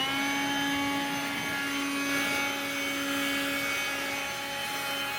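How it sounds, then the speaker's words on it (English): A leaf blower runs steadily at a yacht club, cleaning up before a public event, giving a continuous loud motor whine with a whirring airflow roar that holds level for the whole stretch. "Here's my blower tool."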